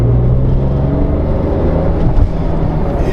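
A Porsche 911 Carrera 4S, USA-spec, pulling away gently on the road: steady, loud, close engine rumble and whir from inside the car, with no sharp revving and no one speaking.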